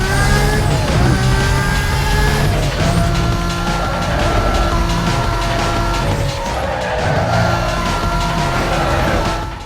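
Lamborghini racing in Need for Speed: Most Wanted, a loud sustained engine roar with shifting revs and tire squeals through corners, continuous and close for the whole stretch.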